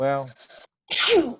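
A single loud sneeze bursts out close by, sharp and breathy, right after a brief spoken word during an online coding lesson.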